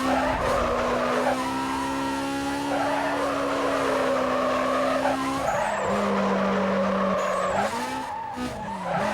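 Tyres squeal steadily as a car slides sideways through a drift in the PS2 racing game Need for Speed Carbon, with a loud continuous engine drone and a rising and falling squeal lasting throughout, and no voices.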